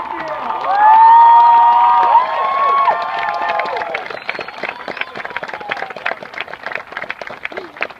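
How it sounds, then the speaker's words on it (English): A graduation crowd at Lackland Air Force Base cheers, whoops and claps loudly. The sound starts with sustained shouting and gives way to scattered dense applause. "Let's hear the applause for the Fort Regional Football."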